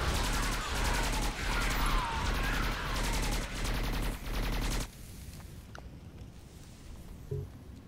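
Rapid automatic gunfire bursts in the video game Skyforge, a loud rattling fusillade for about five seconds before cutting off to quiet ambience with a faint thump.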